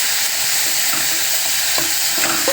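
Panch phoron spices hitting hot oil in a pan while cooking khichuri, a loud, close, continuous sizzle with light stirring clinks, no voices.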